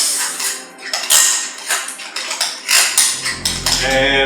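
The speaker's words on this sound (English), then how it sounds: "Just gonna give it a quick mix." A utensil briskly mixes homemade tartar sauce in a bowl, making a quick run of loud, close clinks and scrapes against the sides with no talking.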